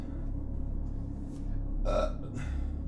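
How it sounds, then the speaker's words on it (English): A single short, close burp bursts out over a steady low background hum. "1 burp."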